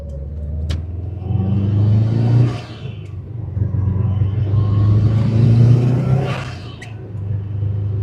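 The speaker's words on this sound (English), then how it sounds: "And then the turbo spools fast, and it goes." A heavily modified Subaru WRX accelerates hard, a loud close engine roar rising in pitch through two pulls with a brief dip between, the turbo's whine climbing over the rumble.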